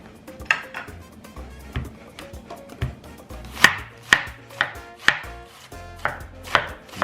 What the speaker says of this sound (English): Alright, so we're gonna slice this baby up in half.